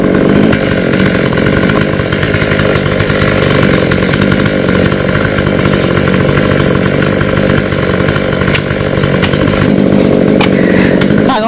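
Chainsaw cutting through a coconut tree trunk, a loud, close, continuous engine snarl held at high revs for the whole stretch, with no voices and only small shifts in pitch as the blade bites.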